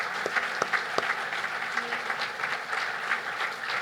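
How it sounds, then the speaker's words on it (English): Board members and a ceremony audience clap together at a cancer center ribbon cutting, a steady dense round of applause with a few sharper claps standing out near the start. "Let's give this group of board members a round of applause."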